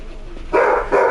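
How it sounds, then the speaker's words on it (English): A pet dog gives two short, loud barks indoors, reacting to a delivery arriving at the house, set against a quiet room background. "Sorry, we had a delivery and my dog heard it."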